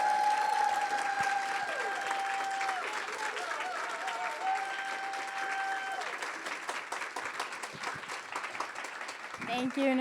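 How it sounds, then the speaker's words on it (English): An audience applauds Kate Nicholson at an opening session, a dense wash of clapping that holds steady for about ten seconds while a voice speaks over it near the start. "you have to give the loudest round of applause to Kate Nicholson"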